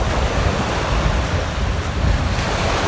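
Steady surf washes onto Dolomite Beach, murky and littered with floating garbage, in a continuous, broadband roar, with some wind noise across the microphone.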